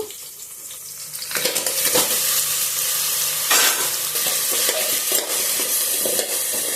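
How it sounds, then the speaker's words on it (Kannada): Crabs fry in a pan with onion and tomato: a loud, close sizzle that swells after a quiet start and carries rhythmic stirring scrapes throughout, with no voices. "ಈರುಳ್ಳಿ ಟೊಮೆಟೊ ಚೆನ್ನಾಗಿ ಫ್ರೈ ಆದಮೇಲೆ ಇವಾಗ ಇದಕ್ಕೆ ಕ್ರ್ಯಾಬ್ಸ್ನ ಹಾಕಬೇಕು"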